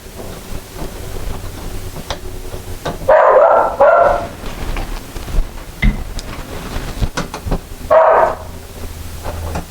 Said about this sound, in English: I guess you can hear my dog barking in the background there.